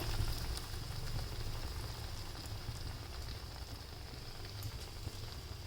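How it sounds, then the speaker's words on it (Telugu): Chana dal vadas, small masala fritters of chana dal, deep-frying in hot oil, a steady soft crackling hiss of bubbling oil running continuously at moderate level with no talk. "బాగా వేయించుకుందాం ఫ్రై చేసుకుందామండి"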